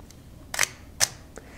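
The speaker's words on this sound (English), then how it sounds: "you could probably hear a meaningful difference in the shutter timing there" A Mamiya ZE-X 35mm film SLR camera fires its shutter at f16, giving two sharp close mechanical clicks about half a second apart, with a fainter tick afterward.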